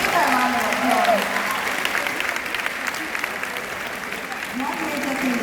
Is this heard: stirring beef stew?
no